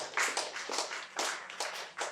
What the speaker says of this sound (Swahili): Mpigie Yesu makofi mazuri.